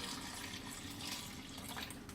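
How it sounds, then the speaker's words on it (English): Homemade yogurt is poured into a container, giving a steady, continuous liquid pouring and splashing sound, close and moderately quiet, with no talking over it. "now I'm pouring my yogurt in it"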